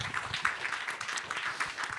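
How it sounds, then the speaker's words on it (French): An audience at a training conference applauds the speakers, a dense, fairly soft patter of many hands clapping at a steady pace, with faint voices mixed in. "Vous pouvez applaudir vos intervenants qui ont été formidables."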